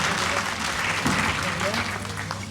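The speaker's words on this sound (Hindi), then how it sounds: "एक बार तालियां होनी चाहिए इस बात के लिए।" Audience clapping at a Hindi poetry gathering, a broad sustained burst of applause from a seated crowd with a low steady hum beneath it.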